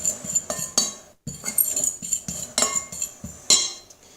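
Whisk or spoon clinking repeatedly against a bowl while baking powder is mixed into oat waffle batter, a quick irregular series of close, bright taps with short pauses between strokes.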